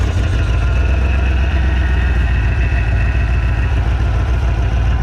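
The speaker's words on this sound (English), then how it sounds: "Motor noises, yeah!" A 1996-99 Chevrolet Vortec 5.7 350 V8, just after a cylinder head replacement, idles loudly and steadily up close with a deep rumble. A thin whine comes from its empty power steering pump.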